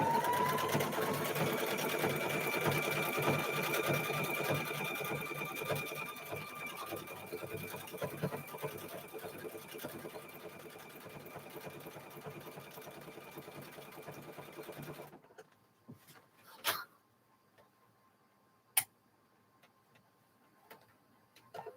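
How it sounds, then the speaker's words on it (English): A sewing machine stitches quilt binding in a fast, steady whirring run for about fifteen seconds, close and fairly loud, then stops, leaving a few isolated clicks and knocks. "We're going to continue stitching."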